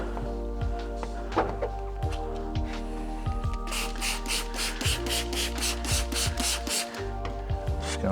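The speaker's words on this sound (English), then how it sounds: "I'm going to take the squeegee and I'm going to run right along that edge." A squeegee is run along the edge of paint protection film on a car panel, making soft repeated rubbing and squeaking strokes, close up, over a steady tonal background.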